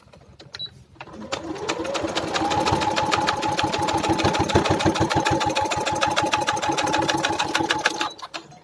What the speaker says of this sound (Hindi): कुछ इस तरीके से हम कॉर्नर कॉर्नर पे स्टिच कर लेते हैं।